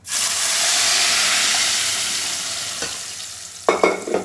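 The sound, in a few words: mashed dal added to sizzling tempering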